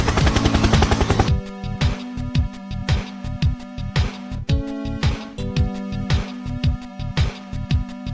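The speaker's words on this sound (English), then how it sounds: "Helicopter, helicopter." In a Titan Duo endless hard mode game, a helicopter fires in rapid bursts of gunfire with rhythmic rotor-like thumps under them, loud and dense throughout with no talking.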